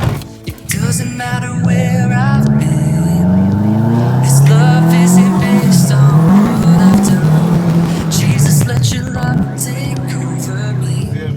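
A race car on the Magura Małastowska mountain hill climb accelerates hard close by, its engine climbing through revs and gear changes with tire squeal, loud and continuous, and people speak faintly beneath it.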